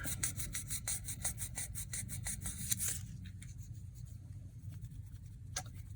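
Sandpaper is rubbed by hand over a 3D-pen plastic repair on a vintage Waterman's pen cap, making quick rhythmic scratchy strokes for about three seconds, then softer scattered rubbing.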